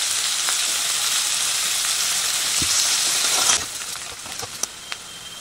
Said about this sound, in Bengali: পেঁয়াজের বেরেস্তাটা করে নিচ্ছি সাদা তেল দিয়ে। তেল গরম হয়ে গেছে